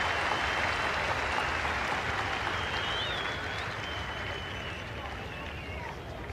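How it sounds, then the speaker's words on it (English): Cricket crowd applauding at Kingsmead, Durban, during a sunny South Africa versus England Test match in 1995, a steady broad wash of clapping and cheering that holds throughout and eases slightly toward the end. "and the crowd love it"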